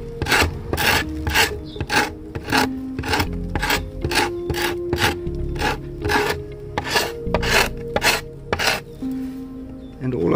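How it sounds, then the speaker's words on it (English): A hooked, burr-edged sharpened chisel scrapes old finish off an antique wooden daybed in rapid, rhythmic rasping strokes, close and loud, repeated about twenty times. "all I'm using really is a chisel that I've sharpened in such a way that it's got a little bit of a hook on the end, slight burr"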